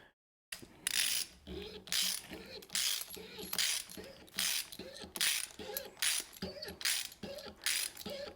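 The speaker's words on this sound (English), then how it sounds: "So grab your socket wrench" A socket wrench ratchets on a Bow Medic bow cable press in steady, even strokes, each a short burst of clicking, about a dozen in a row, close and clear with nothing else over it.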